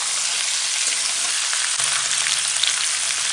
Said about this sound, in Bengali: কড়াইতে তেল দিয়ে এখন আমি আলুটাকে লাল করে একটু ভেজে নেব